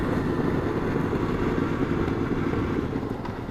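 A Honda Nighthawk motorcycle ridden on the road, a steady loud engine drone with wind rush, close and constant throughout with no talk.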